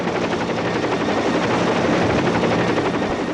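A military attack helicopter flies close by, its rotor chop a loud, continuous, evenly pulsing thrum mixed with dense turbine noise throughout.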